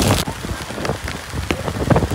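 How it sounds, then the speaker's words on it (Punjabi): Rain falling in a Himalayan valley, a steady close patter of drops on surfaces with a few sharper hits. "ਇੱਥੇ ਵੀ ਸਾਨੂੰ ਬਾਰਿਸ਼ ਹੀ ਬਾਰਿਸ਼"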